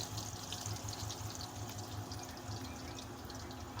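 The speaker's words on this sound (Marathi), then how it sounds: "चांगलं तडतडायला लागलं" Crushed garlic spluttering in hot oil for a stuffed bitter gourd dish, a steady dense crackle and sizzle close by with no talk.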